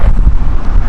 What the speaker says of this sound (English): Wind is really picking up.